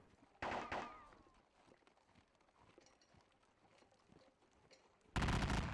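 Musket volleys in the WDS Napoleonic video game, heard as two sudden loud bursts of crackling gunfire, one early that fades away and one at the end, with a quiet stretch between.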